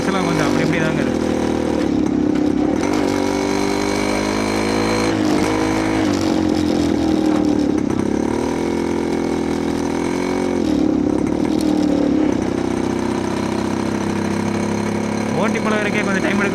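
A Yezdi CL-2 motorcycle, a Jawa 250-class machine, runs with a steady throbbing engine and exhaust note while being ridden. The rumble stays loud and close, rising and falling with the throttle, and a rider talks over it at times.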